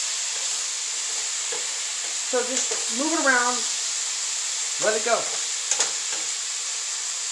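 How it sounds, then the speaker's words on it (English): Steak browns in a hot pan for enchiladas with a steady, bright hiss that runs unbroken throughout, while someone talks quietly above it. "Not sure if you can really hear me over this sizzling here"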